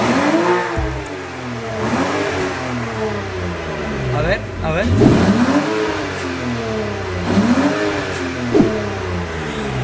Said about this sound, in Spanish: Miren cómo suena el motor nada más.